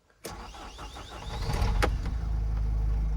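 A starter cranks for about a second, then the 2.0-litre 115 hp diesel engine of a 2010 Renault Trafic van catches and settles into a steady, low, rumbling idle close by.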